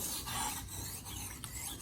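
A filet knife made in Ohio grinds against a Japanese sharpening stone in a steady, close rasping scrape that runs continuously with slight variations in stroke.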